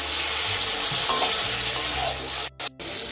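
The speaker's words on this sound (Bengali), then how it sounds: "এখন আমি বেগুনটা ভেজে নেব" Eggplant fries in white oil in a wok, a continuous close, bright sizzle with faint stirring scrapes, cut by two brief gaps near the end.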